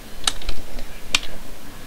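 Computer keyboard keys click a few times in quick, uneven taps, close and fairly loud, no talking.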